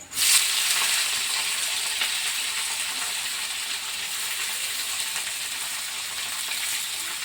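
Curry leaves and shredded cabbage hiss and sizzle steadily in hot tempering oil, a continuous bright frying crackle that holds at an even, close level throughout with no talking.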